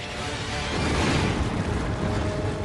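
Massive volcanic eruption explosion rendered as a deep, sustained rumbling roar that builds and stays dense and loud throughout, with no voices.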